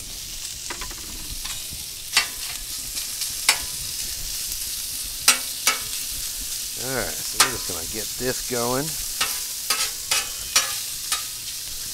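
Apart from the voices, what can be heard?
bacon frying in oil on a Blackstone griddle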